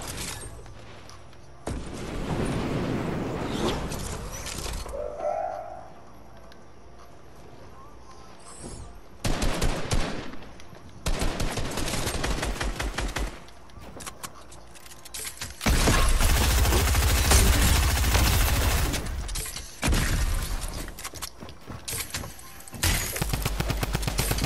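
A drum gun fires in bursts during an online shooter match, rapid loud automatic volleys separated by short gaps, with a heavy boom near the middle and occasional game noise between bursts.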